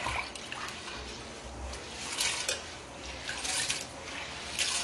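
Soaked fenugreek and rice being rinsed by hand in water, a continuous close sloshing and swirling with small splashes and drips, steady and moderately loud, no voices.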